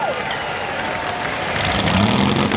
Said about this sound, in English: give them both a round of applause right there